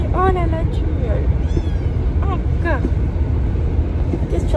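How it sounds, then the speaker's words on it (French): A small Birman kitten meows several times, high and plaintive, over a steady low rumble of background noise. "Oh là là, tu miaules."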